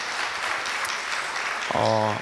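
A church congregation at a summer retreat worship seminar applauds steadily for about two seconds, a broad even patter of clapping filling the room, with a brief sustained musical note sounding near the end.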